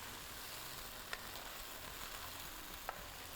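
Kaleji (liver) fries with ginger and garlic in a soft, even sizzle, interrupted by two brief clicks from a stirring spoon against the pan, quiet and without voices.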